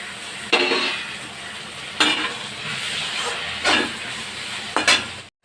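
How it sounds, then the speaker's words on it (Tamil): Tomatoes go into a pan of sautéed onions and crushed garlic for tomato thokku, giving a loud continuous hiss of frying with four distinct stirring scrapes spread across it. "வெங்காயம் வதங்கிருச்சு தக்காளி போட்டுக்கலாம்"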